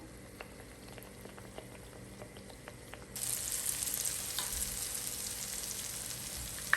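A mava malpua is flipped in a pan of hot oil; a faint quiet stretch gives way to a sudden bright, steady sizzle of frying that carries on loudly to the end.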